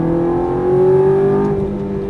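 A Ferrari F430 or Nissan GTR accelerates hard at full throttle on a track, its engine note climbing steadily in a loud, continuous near roar before easing slightly.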